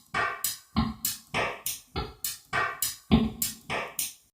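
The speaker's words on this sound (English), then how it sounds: "Let's add some reverb. Drum kit sounds like this." A drum kit built from tapped pencil sounds, processed with reverb and trimmed high end, plays a steady rhythmic pattern of roughly a dozen sharp, close hits with short decaying tails.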